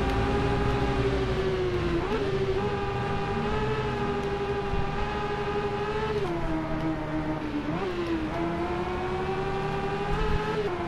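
A Honda CB650F motorcycle engine in the racing video game RIDE drones in a loud, continuous high whine that rises and dips with shifts and throttle changes, steady throughout with no talking.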